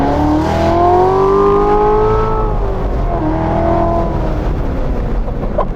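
A manual Corvette C7 Z06 V8 engine revs with a quick throttle blip, its tone rising and then easing back in a loud, close, continuous roar.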